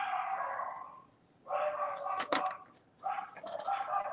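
Dogs bark in the background indoors while a fence worker is on site, sounding as repeated harmonic barks in clusters, moderately loud and somewhat distant, with a sharp knock in the middle.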